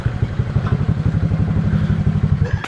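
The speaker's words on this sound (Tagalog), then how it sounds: "May kumakalansing talaga sa motor ko." Motorcycle under way on a delivery ride, its engine thrumming steadily with a metallic rattle clattering along in a continuous irregular rhythm, close and fairly loud throughout.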